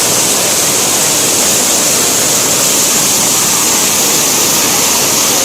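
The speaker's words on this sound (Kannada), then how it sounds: "ಎಷ್ಟು ಮಳೆ ಬರ್ತಾ ಇದೆ ನೋಡಿ" Heavy rain pours down at a hillside temple, a loud, dense and unbroken hiss of falling water that fills the whole stretch without any talk.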